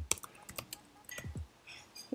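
Typing on a computer keyboard, with a handful of quiet, close key clicks coming in short irregular bursts.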